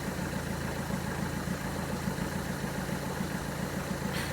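A car engine idling steadily nearby, a low, even rumble with a regular pulsing throb that holds unchanged throughout, with no talk over it.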